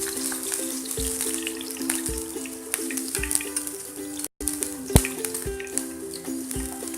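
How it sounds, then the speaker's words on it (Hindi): Spices with grated ginger and two or three green chillies fry in a pan for restaurant-style aloo gobhi, a steady close sizzle and crackle running throughout over soft background music, with no talking. "इसको खुशबू आने तक फ्राई करेंगे।"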